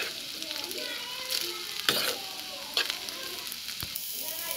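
Poha sizzles as it is stirred in a frying pan seasoned with red chilli powder, a steady crackling fry broken by sharp scrapes of the spoon against the pan.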